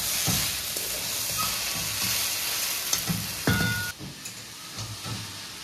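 Banana stem and okra sizzle together in a pan, a steady frying hiss broken by a few clinks and scrapes of stirring, close and without talk.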